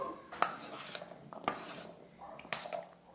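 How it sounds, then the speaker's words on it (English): A spoon stirs minced garlic into an avocado and onion mixture in a bowl, giving several close, sharp scrapes and clinks against the dish in an uneven rhythm, with no talking. "And then we're just going to stir it up, make it pretty."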